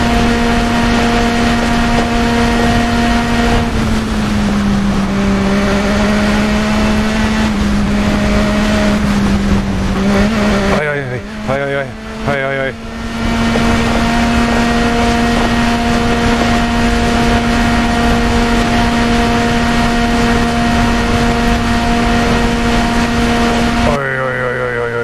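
A racing motorcycle's engine in the TT Isle of Man 2 video game holds a loud, steady high-revving drone with a strong oscillating tone, dipping briefly in pitch mid-run before climbing back to a sustained scream.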